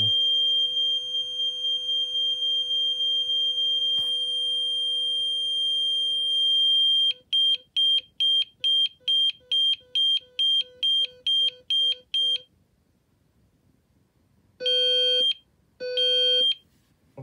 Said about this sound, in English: it sort of goes into a louder tone when it does do the confirmation beeps.